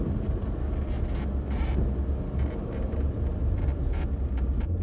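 Car driving a twisting coastal highway through the redwoods, a steady low road rumble and engine drone heard from inside the vehicle, with faint wind noise and no talk.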